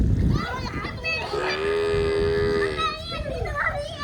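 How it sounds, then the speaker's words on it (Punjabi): A long, low lowing call from a water buffalo rises over children's voices and splashing in a village pond nearby, lasting about a second and a half before the chatter resumes. "ਅੱਬੂ ਨੇ ਮੱਝਾਂ ਛੱਡ ਲਈਆਂ ਨੇ ਆ ਬੱਚੇ ਨਹਾਉਂਦੇ ਨੇ ਛੱਪੜ 'ਚ"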